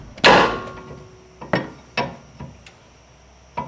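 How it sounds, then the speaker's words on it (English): Sharp metallic knocks while loosening a tie rod jam nut on a 1995-2003 Nissan Maxima, one loud strike followed by four lighter taps with short ringing tails, close and alone. "Just going to loosen up this jam nut here."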